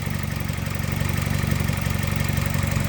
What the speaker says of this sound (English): it's running very smooth with the AC on as well.